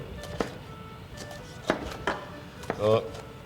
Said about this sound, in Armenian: Կանաչները կտրատեմ